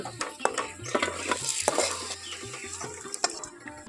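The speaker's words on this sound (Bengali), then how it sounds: "আমার আলুগুলো খুব ভালো করে ভাজা হয়ে গেছে লাল লাল করে আর এগুলো এখন তুলে নেব" Fried potatoes, cooked to a reddish brown for a Bengali karela aloo jhal, are stirred and lifted from hot oil. A utensil scrapes and clinks against the pan in an irregular rhythm over a steady, close sizzle.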